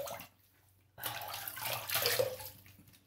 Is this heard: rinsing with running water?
yes